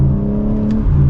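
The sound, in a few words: BMW M4 Competition exhaust while accelerating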